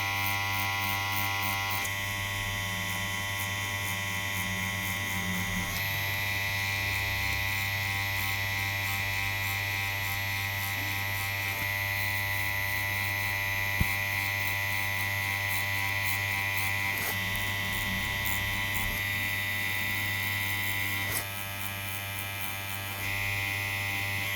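A tattoo machine with a Magnum needle buzzes steadily while shading, a close, continuous electric hum with slight shifts in tone and no pauses.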